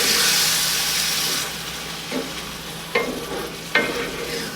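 Tomatoes fry and get stirred in a hot pan: a steady loud sizzle that eases off, with a few sharp scrapes of the spoon near the end.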